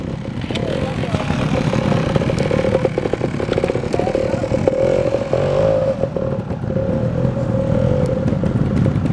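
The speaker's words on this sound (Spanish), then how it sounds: "Con una moto que está enseñada para la caída." Trial motorcycle engine revving near at hand during a trials event, steady loud droning with rising and falling throttle blips and rattling, alongside faint crowd noise.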